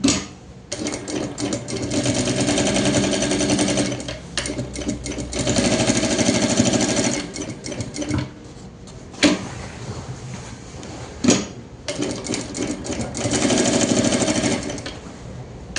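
A sewing machine stitches the side seam of a kitchen apron, running in steady bursts with brief pauses and a quick reverse backstitch between runs, close and loud with no talking.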